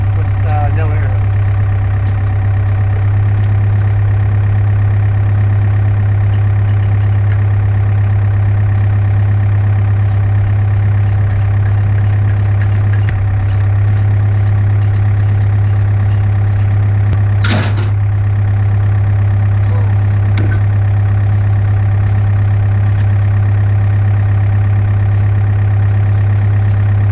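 An air compressor with no hose attached runs steadily throughout, a loud constant low hum with machine drone, and a brief sharper burst partway through; it sounds close, with no talking.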